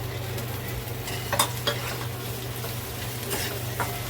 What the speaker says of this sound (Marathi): तुपामध्ये आता खसखस, ओलं खोबरं, काजू, बदाम, मनुके परतून घेतलेले आहे